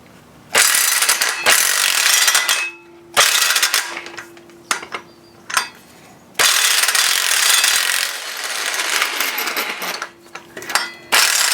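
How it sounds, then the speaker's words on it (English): A ratchet loosening the 19 mm flywheel bolts on a 2004 BMW 325xi engine during a teardown, heard as bursts of loud, rapid clicking separated by short pauses and metallic clinks, close up with no talking. "Next I'm going to take the flywheel off. It's a 19 millimeter."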